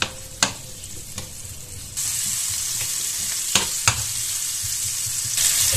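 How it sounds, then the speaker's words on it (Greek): Onion sautés in a pan for a baked pasta dish, a steady close sizzle that grows fuller partway through, with a few sharp utensil knocks and scrapes against the pan and no talking. "και θα σοτάρουμε το κρεμμύδι μας"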